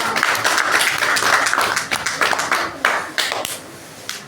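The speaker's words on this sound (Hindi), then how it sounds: "ताली बजाओ उनके लिए।" Children in a classroom clap together during a maths lesson, a dense burst of many hands for about four seconds that gradually thins into scattered claps.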